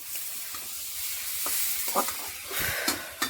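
Food frying in a home kitchen pan, a soft continuous sizzle with a few short scraping stirs near the end, close and moderately quiet, without speech.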